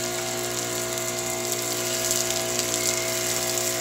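A Karcher pressure washer sprays soap after priming, a loud, steady, close-up hiss of spray over a constant motor hum.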